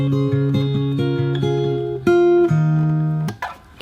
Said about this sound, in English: The next bar is based on an F shape.